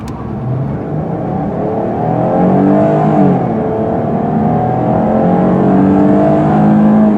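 A 2017 Chrysler Pacifica minivan with a V6 accelerates, its engine note climbing in pitch through several smooth upshifts of the nine-speed automatic, steady and close inside the cabin.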